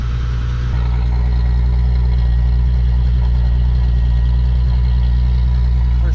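Volkswagen MK4 Jetta VR6 wagon engine idles after a cold start, a loud, steady, low droning rumble close by that holds throughout after a brief change near the start.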